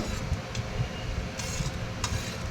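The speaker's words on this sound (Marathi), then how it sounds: "छान मिक्स करून घेऊयात" A ladle stirs tomato rasam with tamarind pulp and asafoetida in a pot, giving a soft continuous sizzle and swish with light scraping ticks, faint and steady, with no talk.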